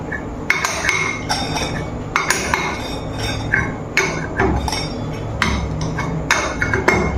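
Metal clinks and knocks from a bolt striking an engine piston as the crankshaft is turned, sounding as a series of sharp taps at irregular intervals, close up over a low mechanical background.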